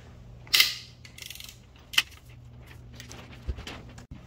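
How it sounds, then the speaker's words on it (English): A ratchet with an E12 socket works a bolt loose on a BMW N62 engine, giving a few sharp clicks and metallic clunks spaced apart, close up in a quiet workshop. "And now with the E12, we can remove this bolt."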